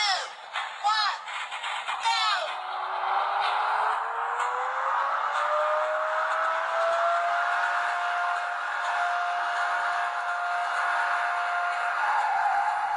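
Fast Racing, a racing video game, plays on a Micromax Canvas Juice A77 phone: a brief voice-like countdown, then a steady engine whine that climbs in pitch and holds, moderately loud.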